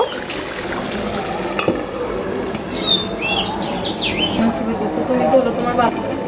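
A Bangladeshi-style broiler chicken roast is stirred in a pan, giving a steady, close scraping and sizzling texture while birds chirp faintly in the background.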